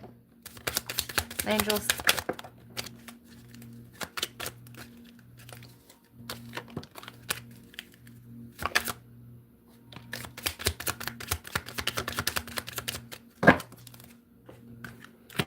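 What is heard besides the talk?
shuffling tarot cards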